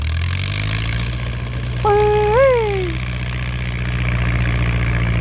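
A Ford tractor engine chugs steadily with a low, continuous rumble, while a voice briefly calls out over it in the middle.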